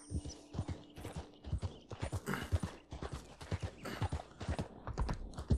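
Horse hooves clip-clop in a steady walking rhythm in the western game Red Dead Redemption 2, soft and close, with occasional faint snorts.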